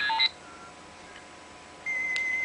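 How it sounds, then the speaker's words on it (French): Electronic tones from an iPhone ringtone in the Glass Orb Color Pro theme: a few quick high beeps, a pause, then a sustained bright tone, all fairly quiet and clean. "Et au niveau des sonneries, normalement, ça change."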